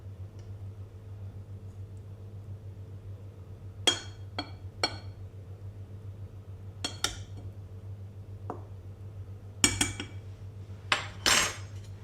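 Scattered clinks and taps of a utensil against a bowl as flour is mixed with baking powder, several sharp separate strikes over a steady low background hum.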